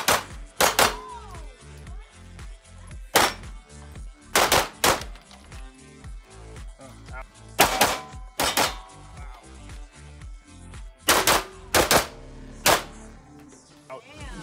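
Gunfire at a shooting session, with about a dozen sharp, loud shots in irregular bursts, some in quick doubles, over a quieter background of handling noises.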